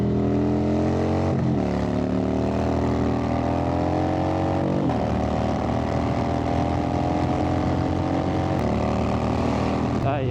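A Harley-Davidson FXDWG motorcycle drones steadily while riding, its pitch climbing through the gears, with brief drops at each shift.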